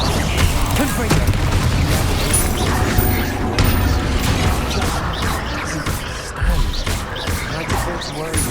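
Confringo blasting-spell explosions in Hogwarts Legacy go off as loud, dense booms and crashes in continuous combat noise, with voices talking over them.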